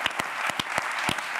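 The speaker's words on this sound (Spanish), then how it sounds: "un aplauso para tu hermano" Brief burst of studio audience applause on a late-night talk show set, dense clapping with sharp claps popping out, fairly loud and lasting just over a second.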